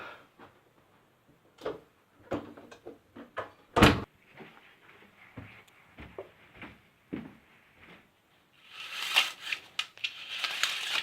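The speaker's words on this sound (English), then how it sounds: "Even the door sticks in winter." A door that sticks in winter is tugged and forced open: a string of irregular knocks, creaks and thumps, one sharp bang midway, then a rushing, scraping burst as it finally gives. Nobody speaks.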